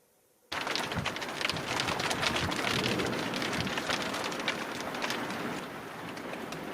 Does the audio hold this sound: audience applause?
no